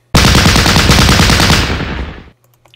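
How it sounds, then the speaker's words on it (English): Machine guns in a World War II strategy video game rattle out one loud, close, rapid burst lasting about two seconds, then cut off sharply. "Machine gun guys,"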